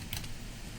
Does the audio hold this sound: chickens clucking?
no